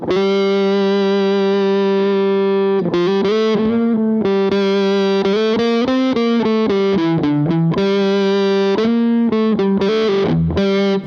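An Epiphone Billie Joe Armstrong Les Paul Junior electric guitar with its tone knob rolled off plays a sustained note, then rhythmic distorted chord changes with a darker, muffled edge, loud and continuous.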